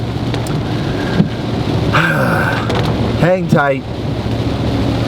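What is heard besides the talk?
rain falling on Kentucky Lake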